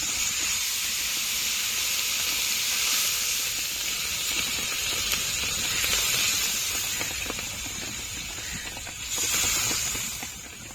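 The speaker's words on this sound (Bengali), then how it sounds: "ভালো করে কষে নিয়েছি এখন জল দিয়ে দেবো" Water hits fried cumin and spices in a hot pan for a Bengali fish curry, giving a loud, steady hiss and steam sizzle that holds for about eleven seconds and swells briefly near the end.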